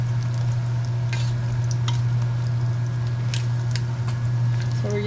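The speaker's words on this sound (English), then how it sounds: "So we're going to stir this really good" Jalapeño slices being stirred in boiling syrup for cowboy candy, a steady wet bubbling and sizzling with occasional spoon scrapes and taps against the pot, over a constant low electrical hum.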